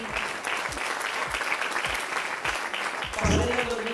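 An audience at a public presentation in Quart de Poblet applauds, dense steady clapping from many hands filling the room, with a voice briefly rising over it near the end.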